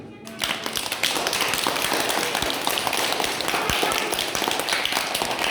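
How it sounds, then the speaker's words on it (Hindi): A group of children clap their hands together during a playful maths lesson. Dense, rapid claps build quickly and continue steadily, fairly close and loud, with no talking over them. "बजाओ ताली"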